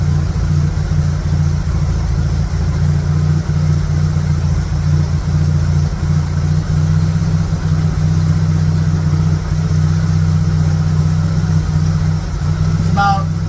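A Dodge engine fitted with a Stromberg BXVES-3 carburetor idles in a steady, loud low rumble throughout, with a faint metallic tick near the end.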